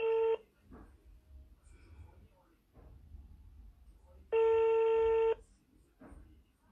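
A phone call placed from a mobile handset: a short dialing tone, then a long ringback tone about a second long, with quiet room noise and faint rustling between them.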